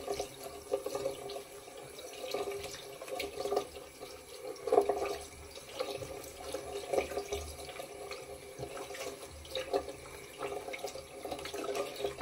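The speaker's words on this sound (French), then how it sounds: "je fais couler l'eau chaude parce qu'elle n'arrive pas tout de suite" Hot water runs steadily from a tap to wet a towel, a faint continuous splashing hiss with small fluctuations, heard alone at low level throughout.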